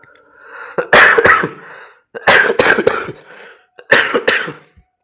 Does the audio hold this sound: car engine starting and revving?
no